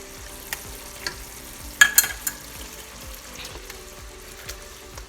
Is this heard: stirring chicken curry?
yes